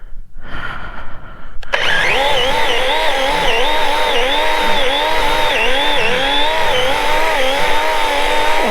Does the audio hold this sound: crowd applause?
no